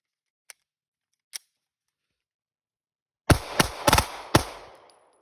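A Glock pistol fitted with a G-Flex trigger fires a quick string of four or five sharp, loud shots with short echoing tails, after two faint clicks in near silence.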